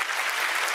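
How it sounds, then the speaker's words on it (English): Audience applause at a youth event, a dense burst of many hands clapping together, steady and fairly close, with no one speaking. "Have a round of applause."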